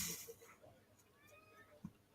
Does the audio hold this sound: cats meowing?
yes